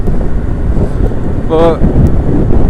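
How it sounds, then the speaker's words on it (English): Wind buffets an outdoor microphone with a loud, constant low rumble that roars throughout, and a single spoken word is briefly heard over it. "Windy! God damn!"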